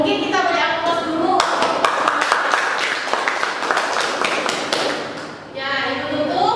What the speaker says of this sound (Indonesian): Mungkin kita beri aplaus dulu.